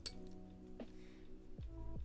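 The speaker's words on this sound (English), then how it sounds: "And rinse your brush each time." Paintbrush rinsed in a glass jar of water, giving a few light, faint clinks against the glass with a soft watery swish, quiet and close with no talking.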